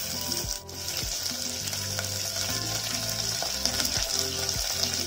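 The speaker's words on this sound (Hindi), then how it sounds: "इसमें डालेंगे भिंडी" Okra fries in a pan with sliced onion and curry leaves, giving a loud, continuous close sizzle with occasional stirring scrapes underneath.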